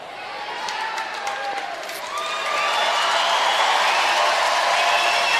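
Crowd at a curling world championship cheering and whooping after a good score for the Czech Republic, building from a steady roar into louder sustained cheering with shrill whistles.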